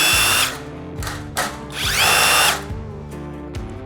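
A Harbor Freight impact driver backs out a bolt in bolt-removal mode, sounding as several short, loud whirring bursts with a longer burst in the middle. The motor winds down between bursts and no one speaks.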